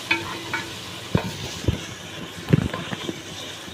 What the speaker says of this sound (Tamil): போட்டு நல்லா வதக்கிக்கலாங்க.